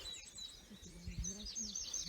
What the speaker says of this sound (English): And behind us again is another wren.